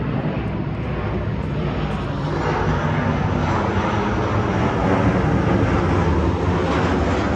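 Boeing 767-type Delta airliner passing overhead near a cemetery, a loud, broad, steady engine roar that holds throughout without breaks.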